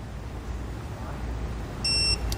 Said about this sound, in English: It's going to beep.